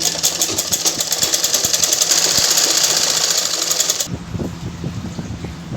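A sewing machine stitches both side seams of a 42-inch blouse, its fast even whirr running steadily and loud for about four seconds before cutting off, leaving softer handling noises.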